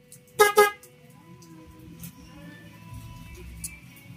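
Two quick honks from the horn of a Honda TMX 125 motorcycle, loud and close, followed by a low idling hum and faint background sounds.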